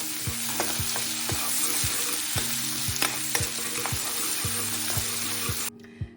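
Ginger garlic paste frying in ghee with whole spices in a pan for shahi chicken curry, a steady close sizzle with rhythmic scraping stirs about twice a second, ending abruptly.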